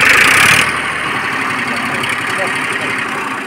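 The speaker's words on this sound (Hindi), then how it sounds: "रेस बढ़ाओ थोड़ी सी रेस।" A 2005 Massey Ferguson 1035 DI tractor engine runs loud and close, rising briefly in pitch as it revs, then settling into a rough, steady idle throb.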